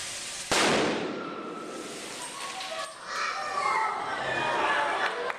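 A bottle packed with liquid nitrogen bursts in one sharp, loud bang at a live science show, followed by a long noisy roar of rushing gas and crowd commotion, with children and voices chattering faintly underneath.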